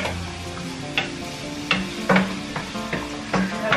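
Beef browning in a frying pan with onions and garlic gives a steady, close sizzle, punctuated by scraping stirs and occasional clinks of a utensil against the pan.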